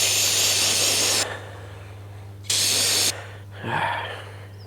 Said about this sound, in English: You're just hearing me spray things with a carb cleaner.